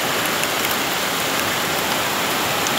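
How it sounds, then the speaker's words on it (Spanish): Heavy rain pours down outside in a dense, steady, loud hiss that stays even throughout, with no voices or other distinct sounds breaking through. "Está lloviendo duro, muy duro."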